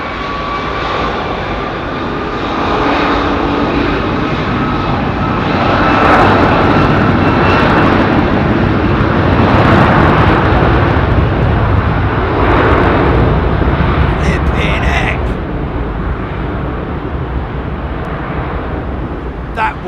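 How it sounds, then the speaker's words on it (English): Trent 700 jet engines on an Airbus A330 spooling up at Heathrow, a loud sustained roar that builds and holds over twenty seconds, with voices talking over it. "Full send, man. That was insane. 3-stage spool up on the Trent 7"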